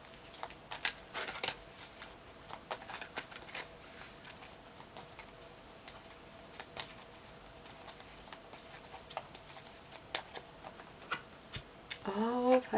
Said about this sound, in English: So let's pull a chakra crystal card.